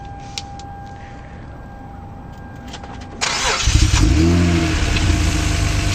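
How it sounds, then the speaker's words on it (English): A 6th-generation Nissan Maxima engine cranks and catches, then settles into a steady, loud running rumble close by. "I'm going to go ahead and turn the car on."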